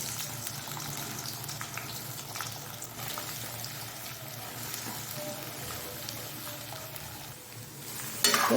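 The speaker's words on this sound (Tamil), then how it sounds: "இப்போ எண்ணெய் நல்லா ஹீட் ஆகிட்டு அதில் நம்ம கட் பண்ணி வச்சுக்க உருளைக்கிழங்கு சேர்த்துக்கலாம்." Cut potatoes frying in hot oil in a pan, giving a steady, loud sizzle and bubbling that holds throughout, with stirring scrapes and a sharper clatter at the very end.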